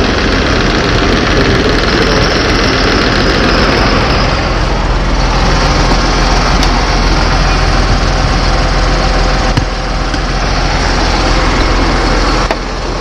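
A Massey Ferguson 6485 tractor engine runs loud and close, a steady deep diesel rumble with a broad roar that holds for the whole stretch, with no talk over it.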